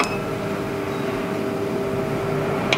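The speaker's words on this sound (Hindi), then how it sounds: "आप इसकी आवाज़ भी सुन सकते हैं कि मशीन ऑन हो गई है।" A soft-serve ice cream machine runs just after being switched on, giving off a steady mechanical hum and drone that stays even throughout, with a faint click at each end.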